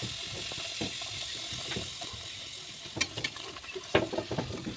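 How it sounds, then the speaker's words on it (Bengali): Peas kachori frying in hot oil, a bubbling sizzle with scattered clicks and sharper crackles toward the end, fairly quiet and close, no speech. "এবার তেলে দিয়ে দিলাম।"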